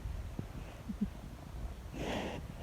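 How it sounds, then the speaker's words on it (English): Pigs sniff and snort outdoors on an Alaska farm in cold weather, a scatter of faint, close snuffles and short nasal bursts, with a breathier huff near the end. "they're out sniffing about and doing what pigs do"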